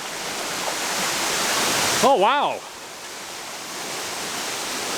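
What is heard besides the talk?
waterfall in Zion National Park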